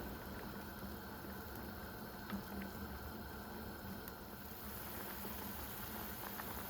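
Sayur asem soup with peanuts, melinjo leaves and long beans simmers in a pot, giving a faint, steady bubbling and gentle hiss with soft, irregular pops, heard alone.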